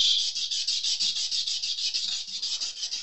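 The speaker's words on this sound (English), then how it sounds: "So I'm going to get to cleaning the frets." Ultrafine Scotch-Brite pad scrubbing the frets of a Taylor 314ce acoustic guitar: steady, close, rhythmic hissing back-and-forth rubbing strokes, soft and even, with no voices.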